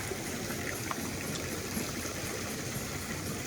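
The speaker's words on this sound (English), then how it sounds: "Look at this crazy pool he built. Yeah, yeah, waterfall." Water from a backyard pool waterfall rushes and splashes in a steady, continuous wash outdoors in a garden, moderately close with no clear voices.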